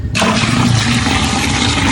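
A sudden rush of boiling water starts abruptly and pours loudly and continuously, a close, strong splashing flow that fills the rest of the moment.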